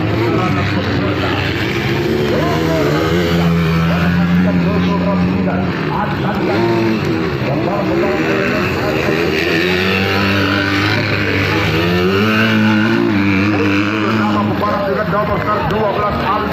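Several 250cc motocross bikes race around a hilltop dirt circuit during a regional championship. Their engines drone and rise and fall steadily throughout, mixing near and far passes, while a commentator talks over them the whole time.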